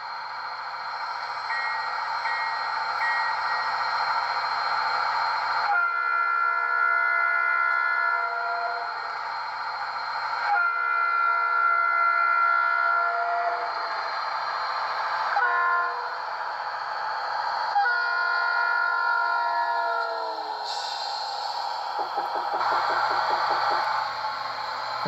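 A single bladder air horn sound from an ESU LokSound decoder in a Rapido RDC model train, several sustained blasts of varying length with short gaps between them, loud and clear, ending with a few different tones.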